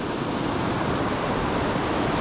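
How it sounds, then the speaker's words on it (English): Hethpool Linn waterfall roars through a narrow gorge, a dense, unbroken rush of water, loud and close, with no voices. "one last look at the waterfall. Going through that skinny gorge really, really fast."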